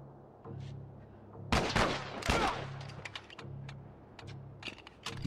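Gunfire in The Last of Us, a few loud bursts of shots clustered together, mixed with game sounds and quieter clicks between them.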